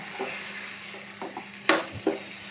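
A spoon stirs bottle gourd curry in a pan after water and a sprinkle of coriander leaves are added, making a few short scraping strokes over a faint, soft simmer.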